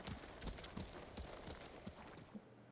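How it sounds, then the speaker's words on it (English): A horse's hooves clip-clop in a steady trotting rhythm in a video game, close and fairly clear, with no voices present. "You're a good horse, Kage."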